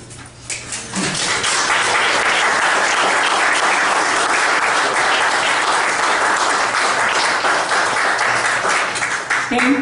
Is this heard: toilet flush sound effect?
no